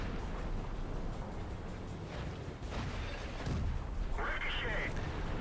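Heavy tank cannon fire from a T110E5 tier 10 American heavy in World of Tanks, a booming shot at about three and a half seconds, then a bright crackling burst, heard over constant engine rumble and battle noise.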